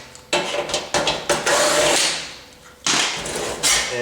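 Screws and a thermostat being removed from a Whirlpool electric dryer with a power driver, giving several loud whirring bursts close by with short pauses between them.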